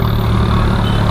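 A Maruti car fitted with a modified exhaust runs with a loud, steady, close-up rumble that stays even throughout, with no voices over it.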